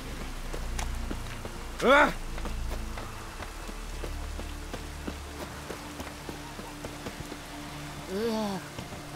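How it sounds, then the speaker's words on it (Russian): Steady rain patters across the ground in The Witcher 3, a soft continuous hiss under the gameplay, broken by a short vocal exclamation and a few brief voiced sounds. "Эх, опять дождь."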